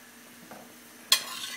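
Monkfish set back into a reducing sauce in a pan, with a faint simmer, a soft clink near the midpoint and a sharper burst of sizzling and stirring toward the end.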